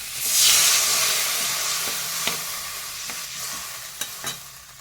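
Water is poured into a pan of frying spice paste for a Bengali fish curry, shol machher kaliya. A loud hissing burst of steam rises, then settles into a bubbling sizzle with a few sharp utensil clinks and no voices.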